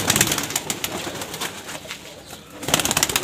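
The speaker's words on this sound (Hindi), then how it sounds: "ये टैडी कबूतर है, सलारा टैडी" Teddy pigeons in a breeder cage coo steadily, with soft repeated calls and some rustling throughout, loudest at the start and end.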